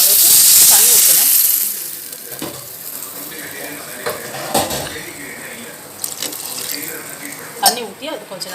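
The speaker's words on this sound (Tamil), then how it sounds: "தண்ணி ஊற்றி அது கொஞ்சம் நேரம் நல்லா கொதிக்க விடணும்" Salted water boils in a pan while wheat rava upma is being made. A loud hiss at the start gives way to softer bubbling and occasional clinks, with people talking nearby.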